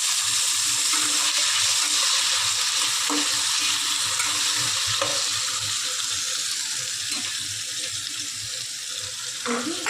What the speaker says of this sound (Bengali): তারপরে তেলে আমি আলুগুলো ভেজে নেব।